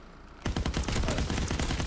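Rapid automatic fire from an STG assault rifle in the World War II shooter game Call of Duty: WWII, a loud, dense burst of repeated shots starting after a brief quiet moment and continuing steadily to the end.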